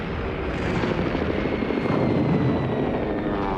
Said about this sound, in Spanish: Los aviones franquistas golpeaban con fuerza objetivos civiles y militares.